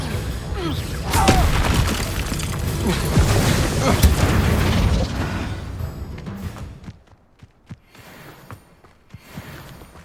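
A fire spell is cast in Hogwarts Legacy, bursting into a loud, dense boom and crash with scattered impacts over several seconds, then falling away to quieter, sparse thuds.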